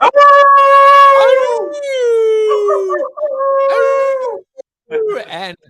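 A person imitates a wolf howl with long, rising and falling wails repeated several times in close succession, loud and near, with short yelping breaks in between.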